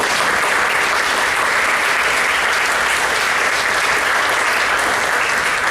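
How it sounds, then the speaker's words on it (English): A big, steady round of applause from a banquet audience for an athletic director at an all-sports banquet, thick continuous clapping filling the room for several seconds. "Let's give one more big round of applause for your athletic director."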